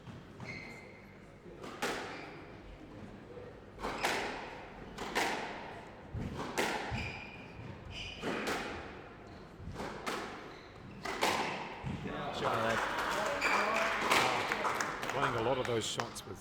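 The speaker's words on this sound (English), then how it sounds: "That's another well played shot there from Emma. Starting to hit those drives really well there." Squash balls strike racquets and walls in a professional women's final on the PSA Challenger Tour, sharp thuds coming every couple of seconds through the rallies while commentators talk steadily over the play.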